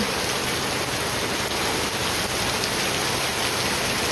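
Heavy rain falls in a dense, steady hiss that stays loud and unbroken throughout, with no one speaking.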